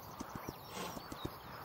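Horse hooves clip-clop in a video game, a quiet series of separate, unevenly spaced thuds over a faint background hiss.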